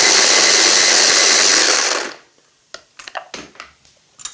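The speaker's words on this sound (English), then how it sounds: "I'm going to give that a blitz through just to get a nice paste." A blender blitzes ginger and two chillies into a paste, a loud steady whir for about two seconds that cuts off, followed by a few short knocks and scrapes.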